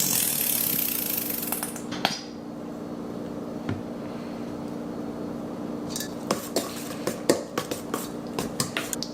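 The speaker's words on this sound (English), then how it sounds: "I just take a fork and mix it all in" A fork clinks and scrapes against a bowl while mixing egg into a baby food mixture, with a burst of clattering early on, then a series of light, sharp taps near the end.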